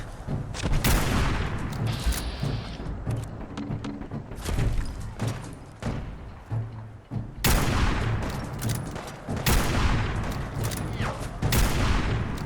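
Near-constant video game gunfire from a firefight involving the Institute faction, with loud overlapping volleys, rapid automatic bursts and occasional heavier thuds rolling on and off.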